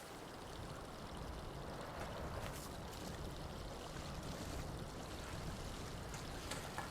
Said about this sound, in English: The water does look like it's flowing downhill.